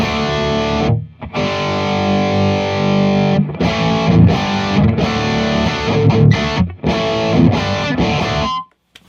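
Heavily distorted electric guitar through a Kemper amp running a Soldano SLO 100 profile into a Kemper Power Station and a regular cab, playing loud chugging riffs in bursts with brief abrupt stops, no talking.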